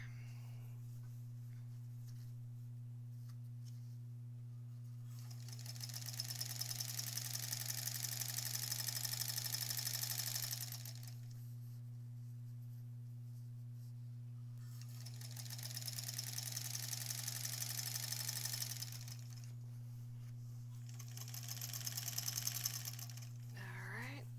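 A sewing machine quilting a granny squares quilt, three separate runs of fast rhythmic stitching, each lasting several seconds, over a constant low electrical hum, with quiet pauses between them.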